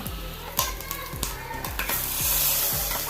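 Hot spice tempering poured into a mung bean curry, a bright close sizzle rising over a backdrop of regular metallic stirring knocks, with no voices.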